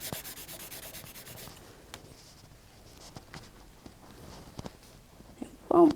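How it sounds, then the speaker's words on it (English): A soft putty rubber scrubbed back and forth over a dark pencil drawing on paper, giving close, dry, rhythmic rubbing strokes that are busiest at first and then thin to quiet scattered scuffs, ending in a short louder rustle. "Now I wonder what would happen if I tried to use the putty rubber on a really dark area."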